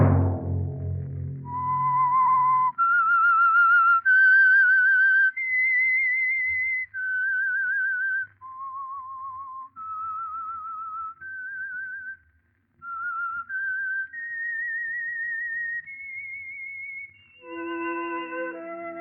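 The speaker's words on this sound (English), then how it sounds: "Let that whistle be your signal for the Signal Oil program, The Whistler" Whistled signature tune of The Whistler radio show, a lone clear whistle carrying a slow melody of held, slightly wavering notes that step up and down, heard close and alone after a brief low opening.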